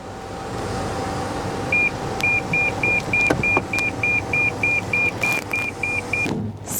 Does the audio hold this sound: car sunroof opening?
yes